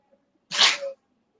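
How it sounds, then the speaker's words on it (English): A dog gives a single short, sharp sneeze with a brief snort, close to the microphone, and quiet before and after. "you guys probably hear my dog snorting and sneezing."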